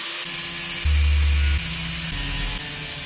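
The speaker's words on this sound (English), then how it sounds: "I'm just gonna cut these very expensive and somewhat rare knuckles with an angle grinder." An angle grinder cuts into cast steel steering knuckles from an E30 325iX, a loud, steady high-pitched whine that deepens and strains as the disc bites, with no pauses across the few seconds.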